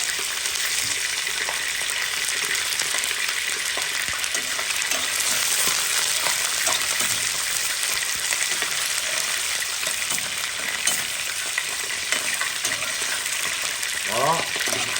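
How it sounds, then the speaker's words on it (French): Onions for mussels in tomato sauce fry steadily in a pan, giving a continuous, even sizzle with occasional stirring scrapes near the end, close by with no talk. "Je le laisse frire."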